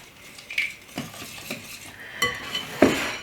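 A utensil stirring melted butter and honey together in a bowl, with a series of distinct clinks and scrapes against the bowl at irregular intervals, close and fairly quiet, with no talking.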